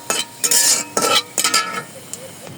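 Bay leaf, cardamom, cinnamon and cumin fry in hot oil, heard as short bursts of bright sizzling and spatula scraping in quick separate strokes, close and fairly loud.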